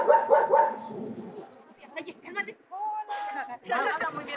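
Dogs bark in a gated dirt yard in a Ciudad Juárez neighborhood as visitors arrive, a few sharp barks mixed with excited voices and other animal calls nearby.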